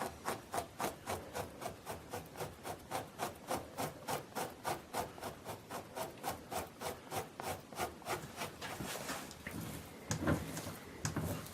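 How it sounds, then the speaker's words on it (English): Dull side of a draw knife rolling fat off a lynx skin during fleshing, a steady rhythmic series of close scraping strokes, roughly three per second, with a rougher, busier rasp near the end. "then I use the draw knife, the dull side, and I just roll the fat right on off of them"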